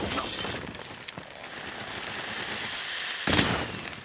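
Machine gun fire in the video game Monster Hunter World, heard as rapid crackling bursts throughout, with one louder, sharper burst near the end and no talking.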